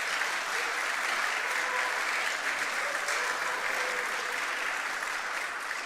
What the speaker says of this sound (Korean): 여러분 한번 아, 크게 한번 박수해 주시기 바랍니다.